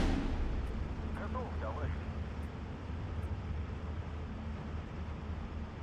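Artillery fire in the World War II strategy game Steel Division 2 rumbles as a dense, continuous low roar of distant booms and battlefield noise.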